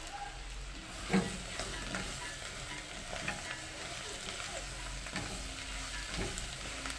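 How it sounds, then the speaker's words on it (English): Ndengu mung beans fry in a pan with a steady, close sizzling hiss, broken by soft scraping and knocking as a spoon stirs them through, and nobody speaking. "I'm going to add in my NDENGU, and then I give it a good mix."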